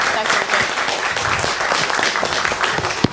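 Dense audience applause fills the space, a steady wash of many hands clapping with a voice or two mixed in.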